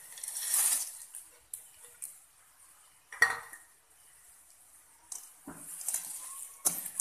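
A spoon scrapes and clinks in a pan, stirring fried appalam with ground coconut and onion, the strokes coming in short, irregular bursts with quiet gaps between.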